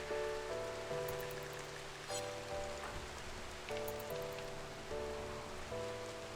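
Rain falls steadily in the video game Rimworld, a constant soft patter that runs the whole time under looping background music with sustained tones.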